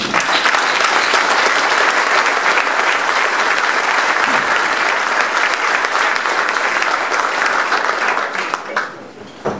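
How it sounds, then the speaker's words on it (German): Loud, sustained applause from a large crowd at a fire brigade ball opening, dense and steady clapping that fades slightly at the very end. "das ist ein besonderer Applaus"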